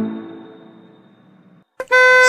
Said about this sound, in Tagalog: Honk the stinking horn bago kita palayasin